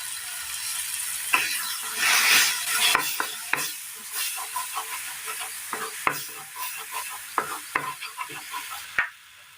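Small bananas fry in ghee in a pan, a close, continuous sizzle broken by repeated scraping clicks of a spoon stirring against the metal, with no talking over it.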